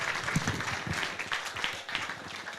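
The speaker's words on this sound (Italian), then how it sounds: "applauso meritatissimo" Faint, scattered applause at a latte art coffee show, distant clapping from a small crowd mixed with background voices and room noise.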